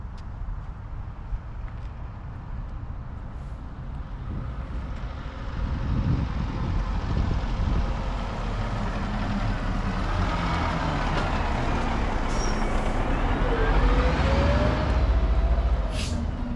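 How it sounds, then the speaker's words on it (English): A large FDNY fire truck drives in with a low, rising engine rumble that swells midway and holds steady, plus a faint hiss near the end, heard without voices. "The FDNY, there's a big truck coming in right now."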